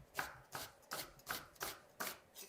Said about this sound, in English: Take one medium-sized onion, preferably a red onion, and slice it coarsely